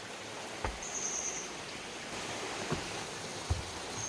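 Stream water flows steadily through a canyon in Korea on a trekking route, a constant soft broadband rush with a few faint knocks, heard alone at moderate distance.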